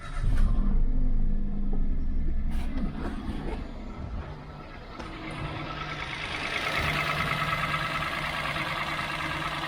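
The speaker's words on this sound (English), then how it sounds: "We'll get it started and we'll have a listen to the engine." A small three-cylinder car engine with about 80,000 miles and low oil cranks, catches and settles into a steady low idle rumble, heard up close with a slight rise in level toward the end.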